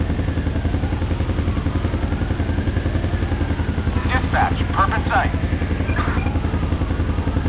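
Police helicopter in GTA 5 with the LSPDFR mod, a continuous loud rotor chop and engine drone throughout, with brief bursts of other game sounds layered on top midway.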